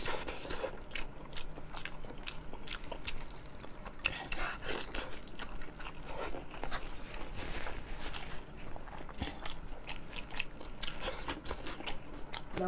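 Close, continuous chewing and crunching as super spicy pork is eaten, with wet bites and crisp crunches in a busy irregular rhythm and talking faintly under it.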